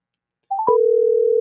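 A telephone line clicks, blips briefly, then gives a steady, loud, unbroken dial tone while a call is being placed for a radio show.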